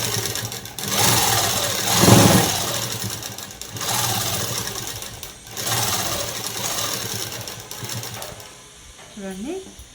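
Sewing machine stitching a blouse collar with a continuous motor whir that stops and restarts in bursts, close and fairly loud, a voice speaking briefly near the end.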